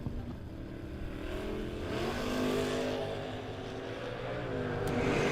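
1967 purple Camaro and another drag car racing down a drag strip at a Thursday race event, engines roaring and rising in pitch as they accelerate, heard from a moderate distance, growing louder toward the end.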